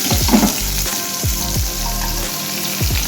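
Chopped onion and tomato sizzle loudly in hot oil in a pan, a steady close crackle broken by a few low thumps.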